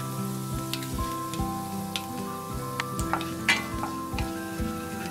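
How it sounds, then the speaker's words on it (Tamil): Fennel seeds sizzle steadily in about two tablespoons of hot oil for a Tamil vegetable somas recipe. The frying runs continuously with small pops and ticks, and no one talks. "ஒரு 1/2 டீஸ்பூன் சோம்பு வந்து தாளிக்கிறேன்."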